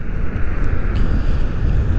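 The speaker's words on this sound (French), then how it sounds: "C'est vrai qu'il y a un tout petit peu de vent, il fait un peu frais." Steady, loud wind roars across the microphone while riding a Dualtron Victor electric scooter on a cool day, a continuous low rumble with no pauses.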